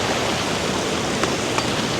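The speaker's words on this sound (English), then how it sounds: "a little stream here that we need to negotiate" Small stream running across a beach by the sea gives a steady, soft wash of flowing water, with a couple of faint splashy clicks over the continuous rush.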